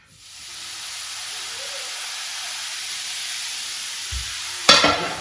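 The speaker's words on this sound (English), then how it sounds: "let it sizzle away for a few minutes" Beef mince sizzles steadily in a hot pan, a constant bright hiss and crackle, with a brief clatter near the end.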